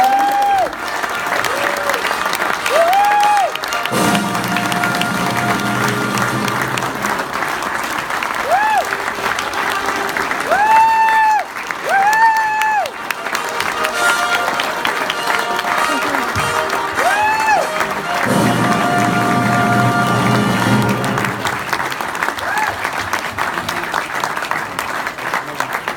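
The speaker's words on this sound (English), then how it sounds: "And from all you, a warm applause as well" A crowd applauds at an award ceremony for a laureate award, with sustained clapping and some cheering running under intermittent music and a speaking voice for the whole stretch.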